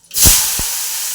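Sliced bitter gourd hitting hot oil in a kadai, a sudden loud hiss with a couple of sharp spits, then a steady sizzle that holds, close up and without talk.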